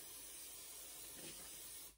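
Temporary spray adhesive sprayed onto embroidery stabilizer, one continuous close hissing burst lasting about two seconds before cutting off abruptly, alone with no voices.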